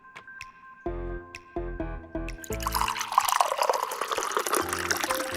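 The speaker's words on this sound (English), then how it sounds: "You put water in." Water poured into a container of frozen mango pieces for homemade dairy-free fruit popsicles, a steady close splashing fill following a few hard knocks of fruit dropping in.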